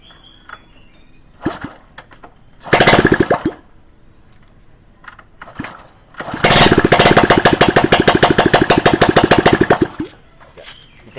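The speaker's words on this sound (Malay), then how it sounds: "Okay, sekarang kita try start lah motor ni" Honda EX5 motorcycle with no exhaust fitted, kicked over several times: brief sputtering attempts, then the engine catches and runs with a loud, rapid, raw popping beat for a few seconds before cutting out.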